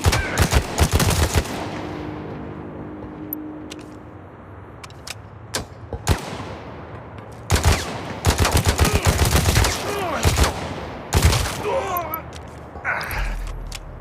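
Gunfire in the Gangstar Mirage City video game comes as loud, dense bursts of automatic shots. Rapid volleys break off and resume several times over a steady game background.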